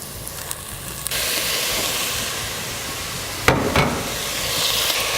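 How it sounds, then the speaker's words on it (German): Sausage meat pulled from its casing sizzles and hisses as it fries in a pot. A steady, moderate sizzle runs throughout, with a couple of brief clatters from stirring. "Und dann im Topf anbraten."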